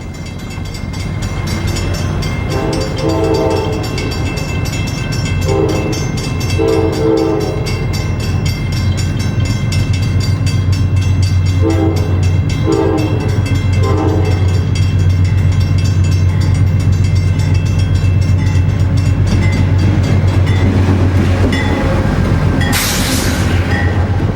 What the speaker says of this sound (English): We turn to catch an inbound train from Sacramento as it nears the station.